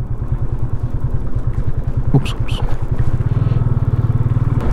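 A motorcycle engine throbs steadily at close range while riding solo along a highway, its pulsing rhythm tightening near the end; a short exclamation breaks in midway.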